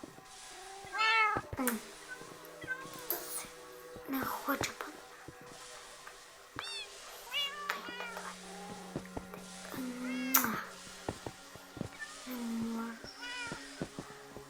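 A cat meows repeatedly in Minecraft, with rising and falling calls scattered among game sounds, while a person speaks quietly at times.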